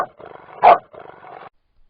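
A pet dog lets out a single loud, close bark, set between softer low murmuring sounds before everything falls silent.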